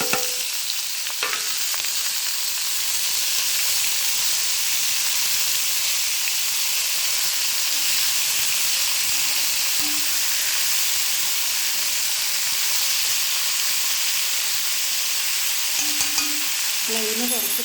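Papaya pieces sizzle in a hot pan with oil and urad dal, a steady loud frying hiss throughout with occasional stirring scrapes.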